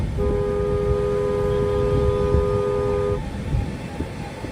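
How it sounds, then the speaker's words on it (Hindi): Vehicle horns blare in heavy street traffic near a bus stand, one long steady honk held for about three seconds over a constant roar of engines and road noise, then stopping while the traffic din continues. "हॉर्न इतनी देर से हॉर्न बजा रहे"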